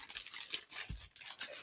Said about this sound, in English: Let me get these plastic bags off of this.